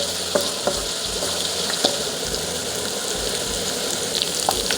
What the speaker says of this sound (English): Just need to fry them to brown color